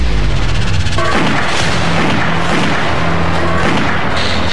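Gunshots and explosion effects in a loud, dense burst of repeated booms and cracks layered with busy noise, continuous throughout, with a faint voice underneath.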